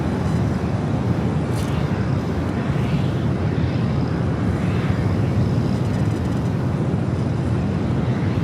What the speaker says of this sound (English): Dreamliner rolling down at 24 left.